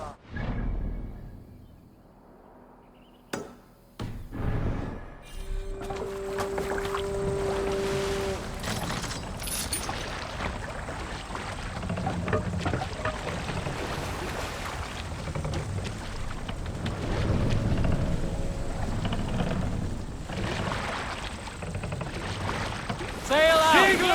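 A canoe moves on open water in the Assassin's Creed Valhalla video game, with wind and water rushing around it. Brief clatters open the scene, then a steady swell of water and air follows, with voices speaking over parts of it.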